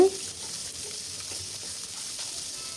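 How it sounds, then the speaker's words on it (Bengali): Shing (stinging catfish) frying in hot oil in a pan, a steady close sizzle and hiss that runs without a break. "খুবই হালকা করে ভাজবো এই তো মাছগুলো প্রায় ভাজা হয়ে গেছে"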